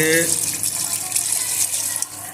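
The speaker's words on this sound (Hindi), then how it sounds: "अब इसके अंदर हम डाल देंगे पानी।" Water is poured into a pot of aloo matar curry, giving a steady, close splashing and trickling rush that runs for a couple of seconds, then eases slightly.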